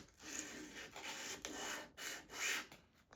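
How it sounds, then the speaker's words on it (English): A small oak tree ornament is rubbed back and forth on sandpaper taped to a flat board, giving rhythmic, gritty rasping strokes separated by short pauses, quiet and close with nothing else heard. "I could rub the tree back and forth and get things nice and flat"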